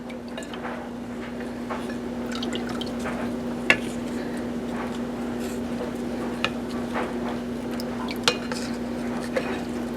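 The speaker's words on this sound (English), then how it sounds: "we're not just trying to watch blackberry jam boil" Blackberry jam bubbles in a pot on the stove with faint, sparse pops and soft clinks over a steady low kitchen hum. No one speaks.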